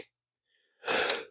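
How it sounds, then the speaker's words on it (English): A single sneeze bursts out loud and close after a faint breathy intake, then stops, with no other sound around it. "Here's a sneeze."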